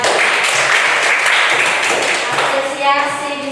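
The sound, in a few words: audience applause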